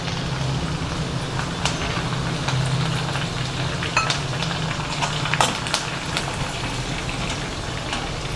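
Curry leaves sizzle in hot oil for kuzhi paniyaram batter, a steady close crackling hiss with scattered sharper pops throughout, no one talking.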